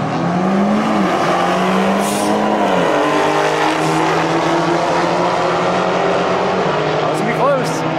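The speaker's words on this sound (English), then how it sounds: "Here's some boost coming off that Challenger." A boosted Dodge Challenger launches at a quarter-mile drag race, its engine screaming through sweeping pitch changes as it pulls hard, with a hint of tire squeal. The sound is loud and continuous, heard at a moderate distance.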